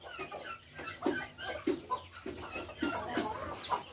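A hen clucking with a chick on a backyard farm, a steady run of soft, short clucks repeating every half second or so, close and fairly quiet, with no talk over it.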